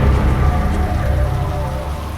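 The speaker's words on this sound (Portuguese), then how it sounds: "Chuva e vento completavam o cenário." Steady rain with gusting wind on a foggy mountain trail on the climb to O Cebreiro along the Camino de Santiago, a dense continuous wash of drops and low rumbling gusts, loud and close, with no voices.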